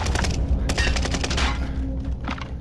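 Rapid automatic gunfire from the video game Call of Duty Warzone, loud and close, with bursts of shots crackling in quick succession over a couple of seconds.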